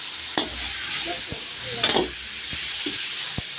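Raisins frying in white oil in a wok, a steady close hiss of sizzling with occasional spoon scrapes and clinks against the pan and brief speech.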